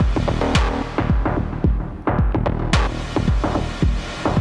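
A synth track with an LFO switching reverb on and off every beat, so each hit blooms and cuts in a steady, loud pulsing rhythm with no talking.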